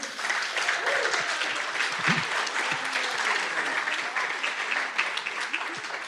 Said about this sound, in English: Can we give a round of applause to these awesome people?